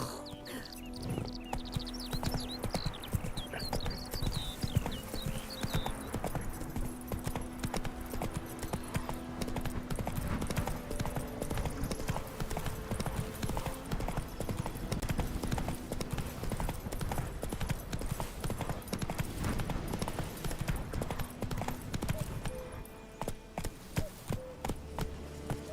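Horse hooves clip-clop in a rapid, steady galloping rhythm in The Witcher 3: Wild Hunt, loud and continuous over game music and ambience, with a brief whinny near the start.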